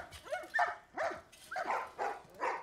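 Dogs bark in The Last of Us video game, a series of sharp, evenly spaced barks and yips fairly close, with no speech over them.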